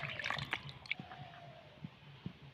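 Three tomatoes are rinsed in water: soft splashes and scattered drips come in brief, uneven bursts, quiet and close, with lulls between them.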